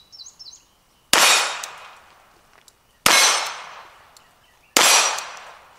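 Three sharp gunshots from a Colt Python revolver firing .38 Special rounds, spaced roughly two seconds apart, each loud with a ringing tail, outdoors with faint birdsong before the first shot.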